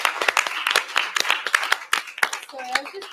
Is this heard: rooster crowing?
no